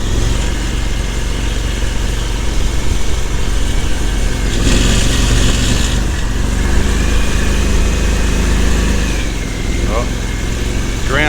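An off-road vehicle's engine revs while driving upstream through a shallow water crossing, a loud, constant engine drone with splashing and rises in pitch, and someone talks over it.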